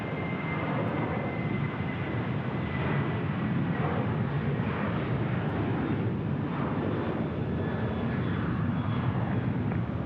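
An airliner takes off at Phoenix Sky Harbor Airport with a loud, steady, broadband jet roar that holds nearly constant throughout, with no voices over it.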